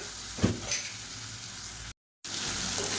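Boiled potatoes frying in a pan for a crispy Tamil-style potato fry, giving a steady close sizzle with a brief stir or scrape near the start and a short dropout partway through.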